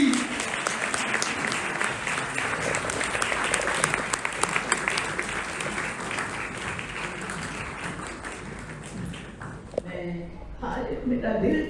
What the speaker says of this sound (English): please do your bit by giving the thunderous round of applause for the MC of tonight